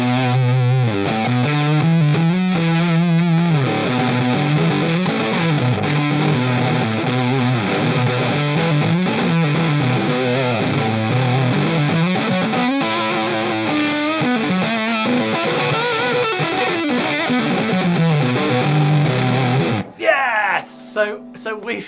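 A Stratocaster electric guitar plays through a fuzz pedal, producing a thick, loud, heavily distorted tone. The chords and notes shift continuously for about twenty seconds, and a brief burst of noise follows.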